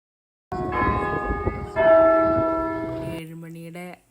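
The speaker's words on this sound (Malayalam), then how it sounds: "7 മണിയുടെ മണിയടിച്ചത് കേട്ടോ" A tower bell in the Danish village of Solvang rings at seven o'clock, with loud resonant strokes and a long humming decay that fades to a quieter final tone.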